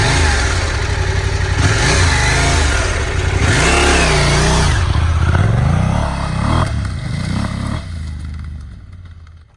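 A Yamaha Tenere 700 adventure motorcycle engine revs and accelerates in repeated rising and falling sweeps, loud and close, with wind rush before easing off and fading at the end.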